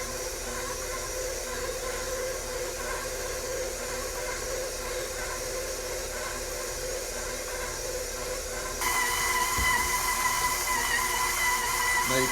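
Stand mixer with a dough hook kneading multigrain bread dough, a steady whirring motor drone throughout that grows louder and brighter near the end, with no talk.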